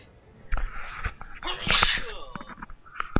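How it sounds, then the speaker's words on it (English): A sharp, close sneeze bursts out mid-clip, surrounded by a few smaller huffs and breathy noises. "Sneeze again."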